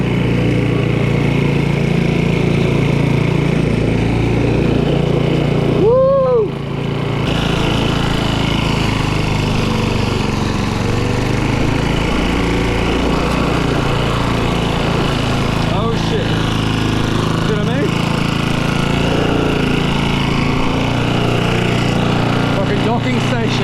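Badly neglected old lawn mower engine running steadily and loudly at high revs, a continuous drone throughout with a brief dip midway; a voice speaks once over it.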